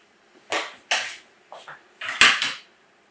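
A focaccia baking pan goes into a preheated 425-degree oven, giving several close, loud metallic clanks and scrapes in quick bursts with short pauses between them.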